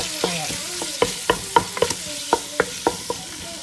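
Chicken frying in olive oil in a big pan, stirred with a spoon: a soft sizzle underlies a quick series of about a dozen sharp scrapes and taps of the spoon against the pan, close and rhythmic.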